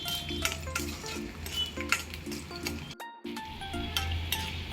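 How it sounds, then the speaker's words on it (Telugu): Dried red chillies and garlic frying in oil until the garlic browns, a steady close sizzle with repeated light metallic clinks of a spoon against the pan and a brief dropout midway. "ఎండుమిరపకాయలండి, వెల్లుల్లి కూడా వేసి వేయించుకుందాము."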